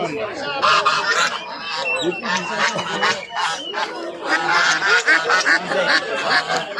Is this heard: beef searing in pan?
no